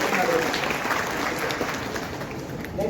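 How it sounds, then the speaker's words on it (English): A big round of applause from the audience at a first-year engineering orientation program, steady and dense clapping throughout, fairly loud and close. "big round of applause for our Sachin Malve"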